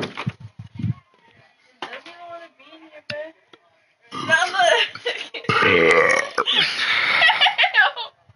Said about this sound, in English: When you burp, like, it smells.